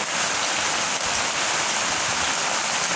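Steady, dense monsoon rain in Malda town hisses without a break, a continuous wash of falling drops close by.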